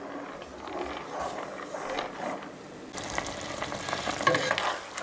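A pot of chicken and vegetable soup with tomato and pasta shells bubbles steadily up close, with crackling hiss and occasional scraping clatter that grows busier partway through.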